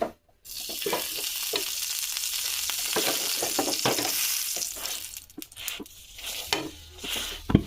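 Steady sizzle of ghee frying in a pan, with stirring and scraping knocks scattered throughout; the hiss drops briefly near the end, then swells again.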